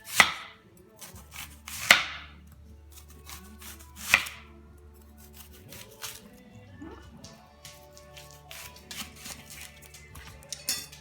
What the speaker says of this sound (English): I just like to slice the onion a little on the thicker side